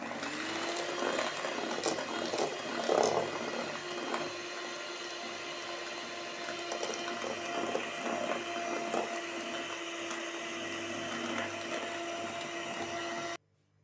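An electric hand mixer beats vanilla sponge cake batter with eggs in a home kitchen, whirring in a steady, even drone for about thirteen seconds before cutting off abruptly.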